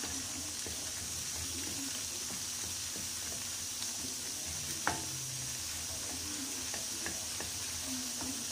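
Okra sautéed with gram flour in oil, stirred and turned in a pan: a faint, even sizzle with scattered soft scrapes and one sharper knock of the spoon midway.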